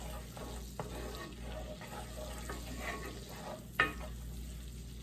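Onions cook in butter in a pan with a steady soft sizzle, broken by light utensil scrapes and one sharper clink near the end.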